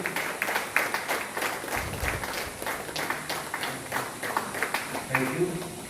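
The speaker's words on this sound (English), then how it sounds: "Can we have a round of applause?" Audience applause at a book launch for a retired IAS officer's autobiography, a dense steady patter of many hands clapping throughout, moderately loud with some indistinct voices mixed in.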